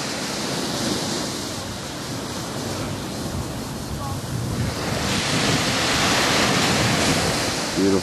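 Ocean surf washes steadily onto a beach on a cruise stop, a broad, continuous roar of breaking waves mixed with wind buffeting the microphone, growing slightly louder toward the end.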